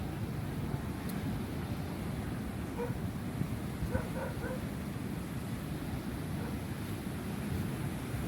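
Steady low roar of surf washing ashore, continuous and fairly loud with wind rumble mixed in, no distinct voices.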